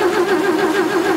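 A 1940s barn-find Chevy truck engine cranks in a short, steady, wavering whir, close and fairly loud, with no catch or firing.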